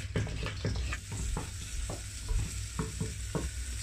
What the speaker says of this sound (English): let's get our mushrooms in. Fry these quite thoroughly before you put the other stuff in.